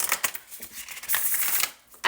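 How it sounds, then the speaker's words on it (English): Large tarot oracle cards being shuffled by hand, a soft papery riffling and sliding that comes and goes in short bursts, near and fairly quiet. "I have to kind of focus on shuffling these."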